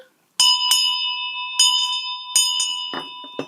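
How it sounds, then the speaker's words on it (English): A small bell is rung in a church in separate clear strokes, about five or six rings over a few seconds, each leaving a bright, steady ringing tone; it is close and loud with no talking. "So we light the candles and ring the bell."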